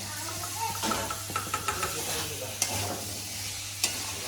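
Potatoes go into spice masala frying in a wok, giving a dense close sizzle broken by several light utensil scrapes and taps, with a couple of sharp metallic clicks against the pan.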